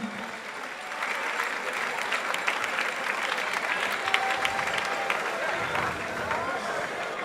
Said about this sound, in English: Can we please give another round of applause to Osaberima?